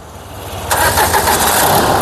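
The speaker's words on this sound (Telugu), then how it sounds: "సింగిల్ సెల్ఫ్ లో కార్ స్టార్ట్ అవుతుంది." A 2017 Renault Duster RXZ AMT starts on a single crank: a short starter whirr catches and settles into a steady, fairly loud idle close by, with no voices.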